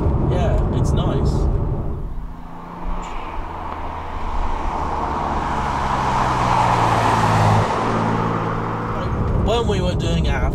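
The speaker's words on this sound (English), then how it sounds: "You can hear that turbo kind of puffing away and doing its thing." A turbocharged automatic Toyota Supra engine runs steadily and loudly, with a low rumbling drone and a rising turbo whine as it builds, while people talk over it at the start and end.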